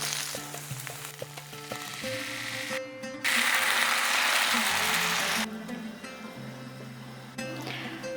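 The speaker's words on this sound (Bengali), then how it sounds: "আদাটা যেই হালকা ভাজা ভাজা হয়ে গিয়েছে ঠিক সেই সময় দিয়ে দেব টমেটো বাটা।" Tomato paste added to ginger frying in oil, bursting into a loud hissing sizzle that swells for a couple of seconds and then settles into a quieter crackle, with clinks and scraping between.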